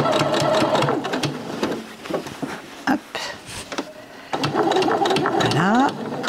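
Sewing machine stitching fabric for a dish bag, running in bursts of fast rhythmic mechanical chatter that pause briefly while the fabric is turned, with a whirring pitch sweep near the end.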